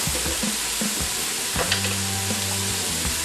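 Raw shrimp and about a tablespoon of garlic sizzle steadily in a hot pot for Shrimp Creole, a loud continuous frying hiss with a few stirring scrapes and clicks close by.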